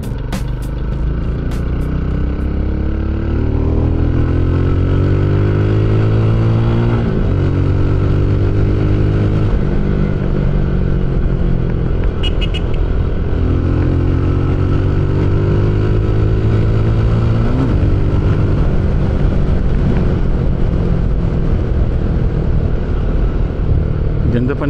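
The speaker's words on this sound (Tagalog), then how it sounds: "Ganda pa ng takbo nitong Rusi. Still a good bike after 3 years." Rusi Classic 250i motorcycle engine running steadily while riding, rising and falling through several gear changes at close range, loud and continuous.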